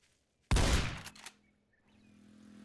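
A rifle shot fires in a Roblox hunting game: one sharp, loud blast followed by a brief rattling tail and a second smaller crack, then quiet with a faint hum rising afterward.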